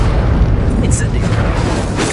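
The Incendio fire spell being cast in the video game Hogwarts Legacy: a loud, close, roaring fiery blast that swells and sustains for about two seconds, with voices speaking over it.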